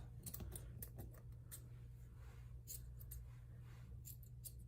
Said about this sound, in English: So I'm gonna take the long pieces and cut those off.